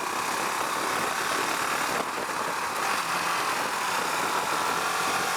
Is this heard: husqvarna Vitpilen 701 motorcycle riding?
yes